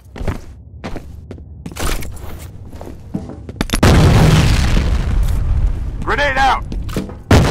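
Grenade explosion in the combat video game F.E.A.R.: a loud, broad boom erupts midway and rumbles on for several seconds, preceded by scattered thuds and footsteps, with a brief shouted voice near the end.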